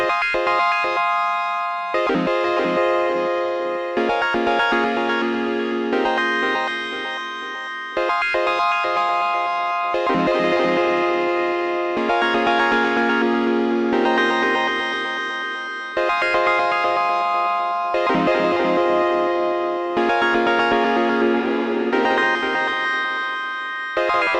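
A bright, glitchy Elektron Analog Four MKII synth chord pattern repeats in loud bursts through a Strymon Volante tape echo on drum mode at normal speed, smeared by warbling echo repeats trailing between phrases, with no voices.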